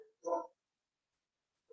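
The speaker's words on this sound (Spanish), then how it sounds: "se escuchan los perros que están afuera o no?" A single short dog bark rings out, distant and muffled from outside, followed by silence and the start of another bark at the very end.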